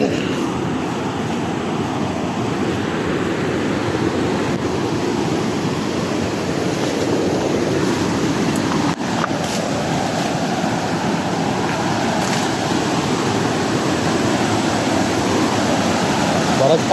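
A swollen river rushes steadily at night during a crab hunt, a loud continuous broadband wash of water that persists throughout, with some faint voices underneath.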